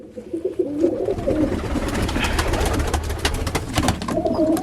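Pigeons coo in a loft: soft, rolling, throaty calls repeat close by and overlap in a continuous murmur, with light rustling and fluttering in the background and no talking.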